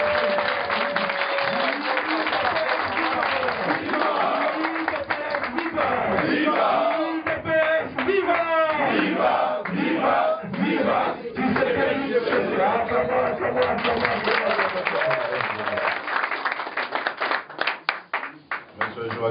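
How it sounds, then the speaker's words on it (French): A crowd applauds steadily at a political welcome gathering held by a party federation and diaspora in Angola, sustained clapping with cheers and voices mixed in throughout, fading slightly near the end. "j'aimerais que vous applaudissiez aussi celui qui m'accompagne"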